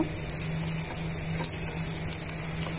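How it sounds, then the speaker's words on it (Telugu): Crushed garlic cloves and dried red chillies fry in hot oil for a gongura chutney tempering, a continuous close crackling sizzle with tiny pops and a low steady hum beneath, no voices. "దంచి పెట్టుకున్న వెల్లుల్లిపాయ రెబ్బల్ని వేసుకొని వేయించుకోవాలి"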